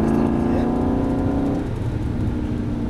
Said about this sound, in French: progressivement on commence à réaccélérer pour bien gérer sa motricité